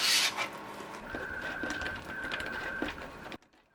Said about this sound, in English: here's my printer magically printing me the enclosure